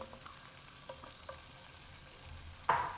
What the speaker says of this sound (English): I'm going to throw in our garlic slices